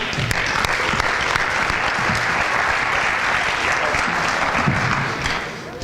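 Steady, dense clapping from a large audience at a high school jazz band and show choir concert fills the whole stretch, loud and continuous, tapering slightly at the very end.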